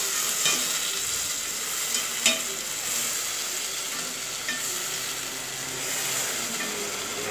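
Chopped onion and tomato sautéing in a pan for rice upma, a constant close sizzle running the whole time with occasional soft stirring scrapes and clicks of the spoon.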